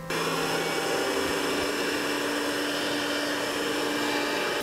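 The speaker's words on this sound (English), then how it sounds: "if you use the heat gun and have some ice crystals inside, it will speed it up significantly." A heat gun blows steadily on a liquid nitrogen container on a CPU overclocking bench, a constant close whooshing drone with no talk.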